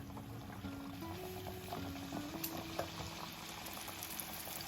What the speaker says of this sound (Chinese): 接下来锅中加入适量的食用油，烧至200度，把我们的油条生坯用手稍微给它伸一下，放到油锅里面